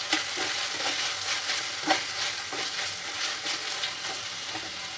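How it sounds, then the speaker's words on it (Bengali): Goat fat fries in a pan with chopped tomato and green chili while being stirred, a loud steady sizzle broken by regular scraping strokes of the spoon, close and continuous. "এবার এতে দিয়ে দেবো কুচিয়ে রাখা টমেটো আর কাঁচা লঙ্কা দিয়ে এটাকে ভালো করে কষাবো"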